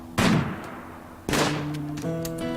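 Two loud gunshots from a RimWorld colony firefight, the first at the start and the second about a second later, each with a sharp crack and a long decaying tail, followed by a steady tonal hum.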